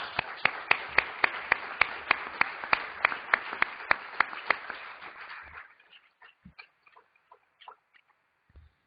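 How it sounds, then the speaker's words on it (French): Audience at a conference tribute event claps in a steady, rhythmic unison beat for about five seconds, then breaks into scattered, thinning individual claps that fade out. "je vous remercie de l'applaudir comme on applaudirait Jacques"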